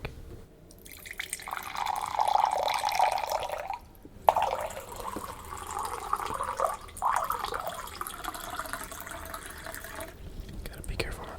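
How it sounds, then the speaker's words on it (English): A hot drink, coffee, is poured in an ASMR setting: a soft, continuous liquid trickle that starts, pauses briefly, then resumes more gently, close up and quiet, with faint whispering nearby. "Let's pour the drink. A final pour for this drink."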